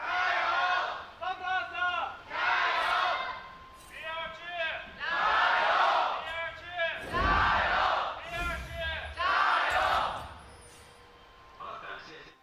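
Esports arena crowd at an LPL Summer Split match between FPX and BLG, a loud roaring, cheering mass of voices swelling in repeated waves with chanting shouts over several seconds before fading.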